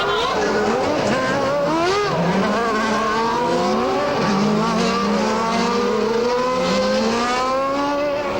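Formula 1 cars roar off the start of the 1994 Italian Grand Prix, a dense pack of high-pitched engines screaming and rising through gears together, loud and continuous with overlapping revs and a brief tire squeal.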